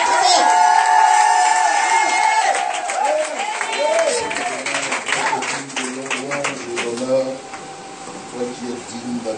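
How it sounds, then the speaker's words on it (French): A congregation at a praise and worship gathering acclaims a prophet with loud cheering, shouting and scattered clapping, a dense crowd roar that slowly settles. "sous vos acclamations, j'ai l'honneur de vous présenter le prophète Jean-Louis"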